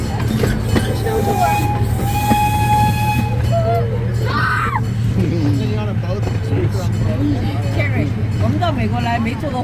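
A small miniature train rolls through a forest with a steady rumble and wheel clatter, plus a drawn-out tonal whistle early on. People talk over the constant running noise.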